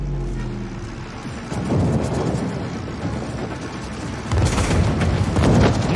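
Naval gunfire booms from a warship in a battleship game, heavy deep blasts rolling out near the start and again later over a constant low engine and sea rumble.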